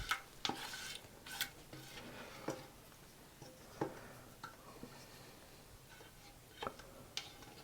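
A spatula scrapes and knocks against a plastic freezer tub of stewed quince, giving scattered light clacks and scraping taps at irregular intervals, quiet and close, with no talking.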